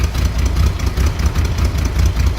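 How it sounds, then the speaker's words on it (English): A 1965 Chevrolet Corvair's engine idles smoothly in neutral, a loud, close, steady low rumble with an even pulsing rhythm and no voices over it. "the engine runs just incredibly smooth"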